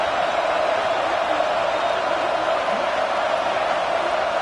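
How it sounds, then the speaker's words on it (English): A dense, steady roar from a packed stadium crowd at an American football game, a loud continuous wash of voices and noise that holds evenly throughout without distinct cheers standing out. "It's early, but this crowd is fired up. Listen to this noise here."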